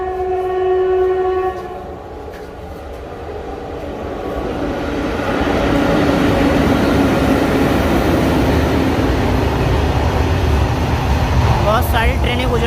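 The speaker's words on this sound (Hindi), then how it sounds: "बहुत सारी ट्रेनें गुजरती हैं इसी तरह से रोज़ यहाँ से।" A train runs through Dhampur railway station, opening with a few loud horn blasts before the heavy rumble and clatter of wagons builds and carries on steadily close by, with a few faint squeals near the end.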